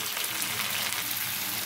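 Tomato pieces fry with onions in a pan for a bitter gourd curry, giving a dense, even, close hiss with no voices over it.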